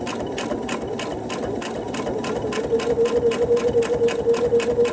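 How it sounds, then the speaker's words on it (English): Sewing machine stitching a 1/4 inch seam along quilt binding, a steady rapid mechanical whir that continues throughout and picks up a higher-pitched hum in its second half, with no talking. "Okay, we're sewing down 1/4 inch."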